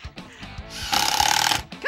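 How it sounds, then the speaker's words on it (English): A power drill whirs in a loud, sustained burst for about half a second while driving a screw into wood strips for a tub coffee table build, framed by short knocks and handling clatter. "I am going to just feed your screws. Should I start? Please. Yeah, she feels good about the drill"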